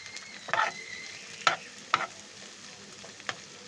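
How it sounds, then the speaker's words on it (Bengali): Boiled pasta is stir-fried in a pan with fried onions and chilli, with a few distinct scraping stirring strokes and a light sizzle in between, heard up close with no talking. "পেঁয়াজ, ঝাল পেঁয়াজ একটু ভাজা ভাজা হয়ে গেলে ওর ভিতর পাস্তা দিয়ে দিচ্ছে"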